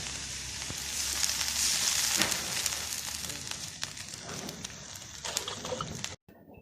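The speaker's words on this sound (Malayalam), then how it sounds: "ശകലം വെള്ളം ചേർക്കാൻ പോവുകയാണ്." Theeyal curry sizzles and crackles in a pan in a Kerala village kitchen as water goes in, a dense hiss with scattered sharp pops that fades before a brief cut near the end.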